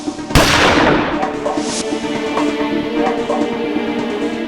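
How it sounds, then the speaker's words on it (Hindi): A gunshot in a crime-scene reenactment, one sharp loud crack that rings out into a long, noisy decay with no voices over it. "तो गन यहां रखी और गोली चलाई।"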